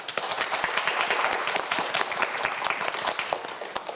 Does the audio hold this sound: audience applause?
yes